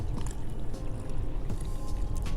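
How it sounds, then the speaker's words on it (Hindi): Water is poured into a pot of flowering-plant fertilizer, a steady close splashing and gurgling with low bubbling underneath and no talk. "हमें 1 लीटर इस तरह से पानी डाल देना है।"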